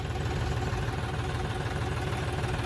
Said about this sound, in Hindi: उन्होंने रेस खोल रखी है ट्रैक्टर की और डीजल भी बढ़ा रखा है